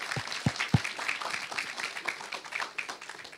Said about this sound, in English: put your hands together and clap for the other person who has done so as well